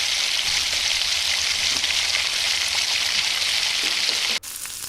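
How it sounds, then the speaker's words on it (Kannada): Spring onion frying in oil on a medium flame, a loud, dense, steady sizzle held close and continuous, cut off abruptly near the end. "ಸ್ವಲ್ಪ ಸ್ಪ್ರಿಂಗ್ ಆನಿಯನ್ ಹಾಕ್ಕೋತಾ ಇದ್ದೀನಿ ಇದನ್ನು ಆಯಿಲಲ್ಲಿ ಚೆನ್ನಾಗಿ ಫ್ರೈ ಮಾಡ್ಕೊಳ್ಬೇಕು"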